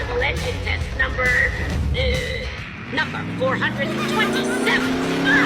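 A combustion engine runs during a test in a Warcraft-themed racing game, revving with rising and falling harmonic tones that climb steadily toward the end, loud and close, mixed with busy game effects and sounds.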